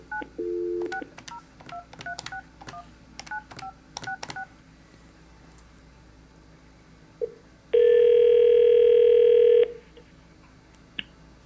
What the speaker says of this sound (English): 9 for outside dial tone.